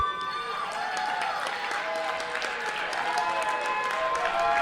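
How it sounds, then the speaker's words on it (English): A professional wrestling crowd applauds steadily, with high-pitched cheers and whistles mixed into the clapping. "it's a bit of a higher pitched cheer than we usually hear"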